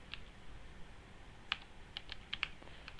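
Someone types a name on a computer keyboard, giving a quiet, sparse run of separate key clicks with short pauses between them and no voices.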